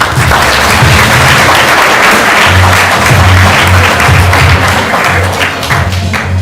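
Loud, sustained applause fills the hall at an awards ceremony for a national science fair final, with dense clapping and low rhythmic thumps running throughout.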